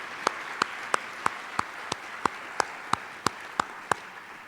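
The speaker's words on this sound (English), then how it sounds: "One last round of applause for all their hard work." A lone person claps at a college athletics commitment ceremony, a slow, even series of about a dozen sharp hand claps, spaced apart and fairly faint.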